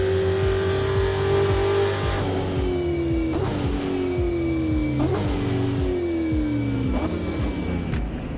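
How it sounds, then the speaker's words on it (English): Historic race car in Assetto Corsa braking from about 200 km/h into the Long Beach hairpin, engine note falling steadily with repeated downshift blips and a continuous loud drone, no voices. "Braking the hairpin."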